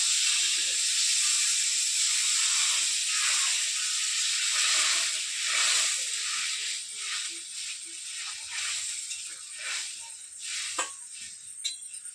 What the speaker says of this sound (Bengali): আলুর সঙ্গে পটলের পেস্ট মশলা আমি ভালো করে কষে নিয়েছি এবার জল দিয়ে দেবো